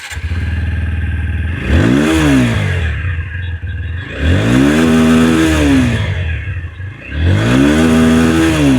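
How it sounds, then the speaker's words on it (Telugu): A 2026 TVS Apache RTR 160 4V motorcycle revs hard three times in a row, each throttle blip swelling its engine and exhaust note up and back down. It sounds loud and close, with no voices. "సో ఒకసారి exhaust note and engine sound విందాం."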